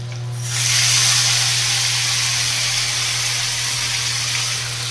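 Black cumin tempering and ginger paste sizzle in hot oil in a pan, a loud, steady frying hiss that swells after a moment and holds evenly, close up.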